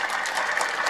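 Steady, dense audience applause at a film audio and trailer launch event, a continuous wash of many hands clapping at even volume with no voices standing out.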